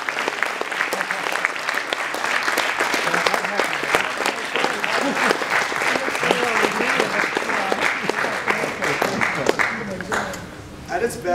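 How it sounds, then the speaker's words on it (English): Sustained applause from a symposium audience in a lecture hall honoring a professor, dense and steady clapping for about eleven seconds before tapering slightly near the end. "Put one more round of applause for Professor Chomsky."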